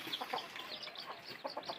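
Sonali parent chickens, super hybrid stock from a flock of three roosters and twenty-three hens, cluck repeatedly at close range in a short run of overlapping calls, with no talking.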